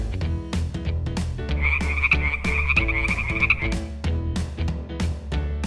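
A frog croaks in a sustained, rattling trill lasting a couple of seconds, mixed into an upbeat children's song with a steady pounding beat.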